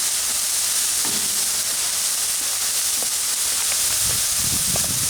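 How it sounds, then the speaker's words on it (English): Pre-packaged quarter-pound beef patties fry on an outdoor griddle, unsmashed, giving a dense, steady sizzle and hiss throughout with occasional small pops and crackles, close and constant. "These are quarter-pound patties I bought pre-packaged. I'm not going to smash these. Makes it a little more convenient. So you can hear that sizzle."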